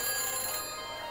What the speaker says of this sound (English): ring the phone booth of the future